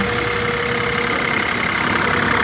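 A pressure washer engine runs steadily nearby, a loud continuous mechanical drone with a buzzing hum and no breaks, alone without talking.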